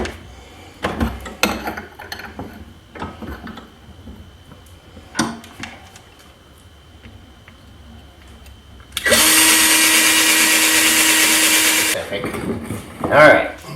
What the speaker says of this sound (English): Ah yeah, dull drill bit.